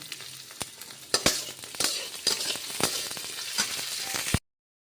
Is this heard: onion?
yes